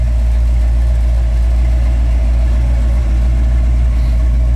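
A 1972 GMC Jimmy with Flowmaster exhaust runs with a loud, deep, steady engine rumble heard up close with no change in pace.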